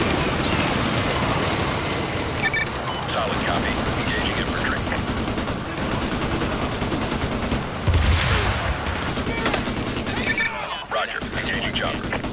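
A helicopter in the video game Modern Warfare 2 thrums steadily through a dense combat soundscape, with bursts of gunfire and scattered shots layered over it and voices calling out amid the noise.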